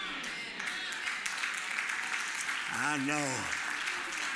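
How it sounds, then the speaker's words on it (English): Scattered clapping from a church congregation during a Sunday sermon, a thin spread of soft claps from a few people, with a voice speaking and a short sung or drawn-out vocal phrase over it. "You hear that clap?"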